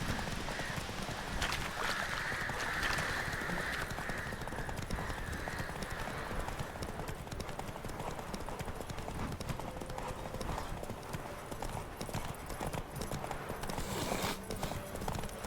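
Horse galloping in The Witcher 3, a steady, continuous clip-clop of hooves under a dense wash of in-game ambience, sustained and fairly loud throughout.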